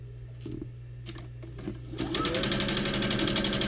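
A sewing machine stitching a quilt seam starts up after a couple of seconds of quiet handling sounds and low hum, then runs in a rapid, even close-up whir to the end.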